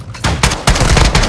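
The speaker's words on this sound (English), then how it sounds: "You are taking effective fire." Heavy automatic gunfire in the Call of Duty DMZ mode: loud, close bursts of rapid shots in quick succession, dense and overlapping, with no talk over them.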